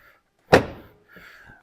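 A single solid thunk of a Ford OBS crew cab truck door slamming shut close by after new hinges are fitted, followed by a quiet rattle and faint settling noises.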